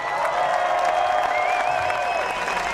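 Crowd cheering and applause at the Silverstone MotoGP podium celebration after the 2022 British Grand Prix, a dense steady roar with whistles and shouts rising above it throughout.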